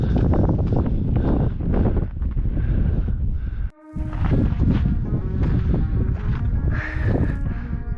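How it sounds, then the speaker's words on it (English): Strong mountain wind on a snowfield buffets the microphone in loud, rumbling gusts, with a brief lull midway before the roaring resumes. "Yeah, it's getting windy."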